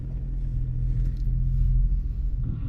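Jeep Wrangler JKU crawling over a rough off-road trail squeeze section, with a steady low engine rumble that stays close and constant throughout.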